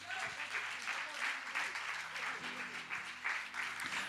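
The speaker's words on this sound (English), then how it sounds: "Everybody, let's give a wonderful hand of applause" An audience at a church conference service applauds, sustained crowd clapping with a sustained musical tone beneath, moderately loud and steady throughout.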